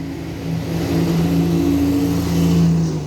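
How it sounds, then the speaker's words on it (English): A bus passes close by on Hopwood Lane in Halifax, its steady engine rumble loud and sustained, rising slightly as it goes by, with no talking over it. "let the bus go past"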